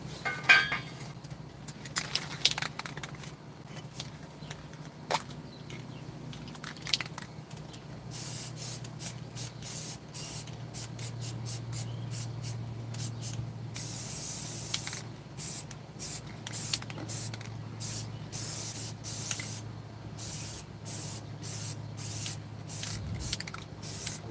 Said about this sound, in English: what I'm going to do is I'm going to add a second coat of paint